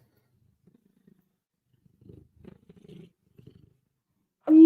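A pet cat purrs softly close to the microphone in low, rumbling bursts, with a sudden loud noise right at the end.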